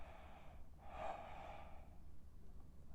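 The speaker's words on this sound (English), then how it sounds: "and then you're going to yawn." A single person's yawn during a silent voice warm-up, a quiet breathy inhale that swells for about a second and then fades into faint room hiss, with no speech.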